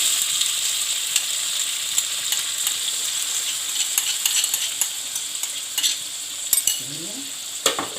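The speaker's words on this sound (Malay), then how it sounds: "Sekarang saya masukkan bawang merah yang telah dikisar tadi" Ground shallots stir-fried in a pan for a Malaysian sambal tumis ikan bilis, a steady close sizzle with a few spatula scrapes and clinks against the pan, no talking.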